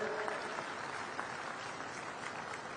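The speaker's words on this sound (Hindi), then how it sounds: "एक बार जोरदार ताली बजा के उनका स्वागत करें" A large audience at a women's conference in a stadium in Bhilai claps steadily to welcome a guest, dense even applause holding from start to finish with no talk over it.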